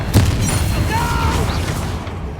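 A Confringo blasting spell explodes in the Hogwarts Legacy video game, a loud booming burst with a rumbling tail that fills the short moment.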